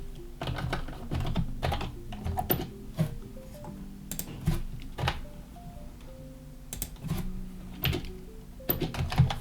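Code being typed on a computer keyboard: quick, irregular clusters of close key clicks and taps, with soft melodic background music underneath.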